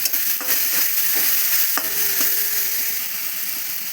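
Masala paste with green chillies stir-fried in a pan for a cabbage fritter curry, a steady close sizzle broken by several sharp scrapes and knocks of a spatula against the pan.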